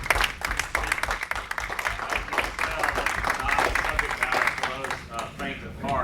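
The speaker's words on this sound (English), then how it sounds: "I think we need to give a big round of applause to our" Audience applause follows a law lecture, with a dense patter of clapping that carries on under a speaker's voice and tapers slightly near the end.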